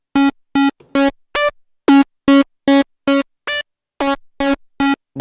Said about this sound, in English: So a bit crusher, similar to the sonic decimator.